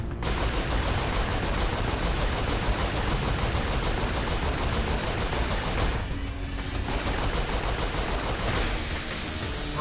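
Dense, continuous gunfire in Saints Row 4, rapid overlapping shots and automatic bursts close and loud throughout, easing only briefly midway before resuming.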